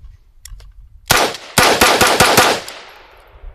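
A Hera Arms 15th sport rifle fires at a shooting range: two faint distant pops, then a loud near shot followed by a rapid string of about six sharp cracks, with echoes fading away afterward.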